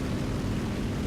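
The engine of a dive bomber assault plane in War Thunder drones as a dense, steady roar, loud and unbroken throughout with no speech.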